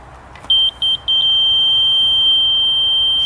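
Electronic beeps from a laser level receiver: a few short high-pitched pulses in quick succession, then a steady continuous tone held to the end, clear and close over a quiet background.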